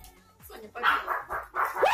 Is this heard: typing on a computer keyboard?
no